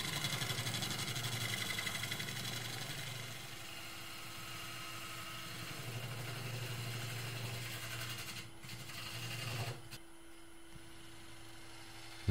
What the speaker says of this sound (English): starting off with the 5/8 bowl gouge just to take the roughness on the edge